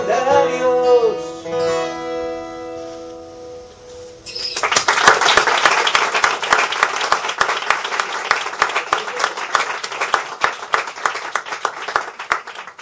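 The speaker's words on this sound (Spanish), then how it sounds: "habéis aplaudido" An audience at an open-mic poetry and music session in a bookshop breaks into applause after a sung passage ends, and sharp, close clapping carries on steadily to the end.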